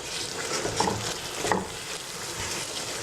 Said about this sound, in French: Vous mélangez bien.